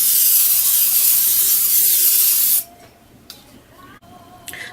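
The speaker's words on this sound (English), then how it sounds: "next we're gonna go ahead and spray it with our cooking spray" A loud continuous hiss of cooking spray into a cake pan lasts about two and a half seconds, then cuts off, followed by faint clicks and handling noises.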